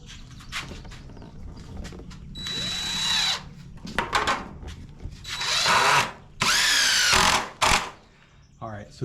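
Power drill with a Torx bit driving screws, several loud close whirring bursts of varying length with short taps and pauses between, while people talk nearby.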